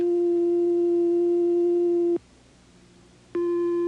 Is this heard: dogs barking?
no